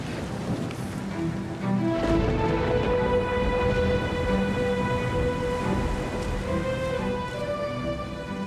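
Steady heavy rain pours down with a constant rushing hiss, swelling louder after the first couple of seconds, with no voices.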